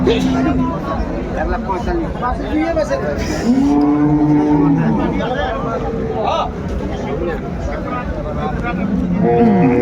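Cows and calves lowing repeatedly at close range amid a busy crowd at a cattle market in Ambari, with people talking and bargaining throughout.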